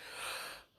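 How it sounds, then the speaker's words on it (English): A person yawns once, close to the mic. It is a single breathy, airy draw of about three quarters of a second that swells and then fades out, with no words. "you'll just have to excuse my yawn"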